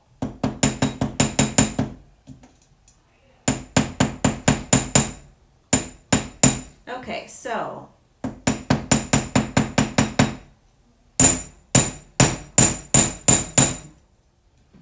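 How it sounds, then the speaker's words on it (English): A hammer taps a small metal jewelry piece in quick bursts of sharp, ringing strikes, about six to eight per burst, separated by short pauses, with a brief rustle in between. "if you're wondering why I'm hammering it, because obviously you don't have to hammer it"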